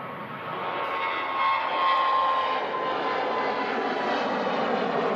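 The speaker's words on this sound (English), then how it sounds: "Ryanair on the rollout. Heading down to Milan." A Ryanair jet airliner rolls out at Manchester Airport, giving a steady, loud broadband engine roar that swells slightly and holds without speech.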